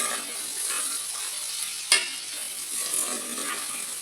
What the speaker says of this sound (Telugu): కాకరకాయలు నూనెలో బాగా మాగాయండి.